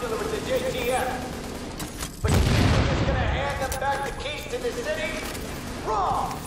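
Gunfire loaded with flame bullets in The Division, booming shots and crashing impacts, one heavy blast midway, mixed with game clatter while someone talks over it.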